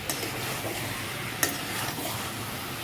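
Chilli chicken is stirred and sautéed in a pan, giving a steady close sizzle with soft scraping strokes and one sharp utensil clink midway, no speech.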